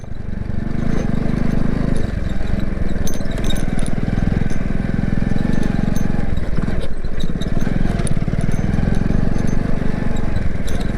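Loud, continuous engine drone of a motorcycle close by on a forest road, holding steady with slight surges over its whole length.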